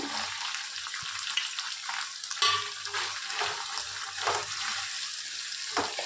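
Steady sizzling of pumpkin and potato frying in a pan for sambar, with soft scraping and clinks of a spoon stirring through it, no talking.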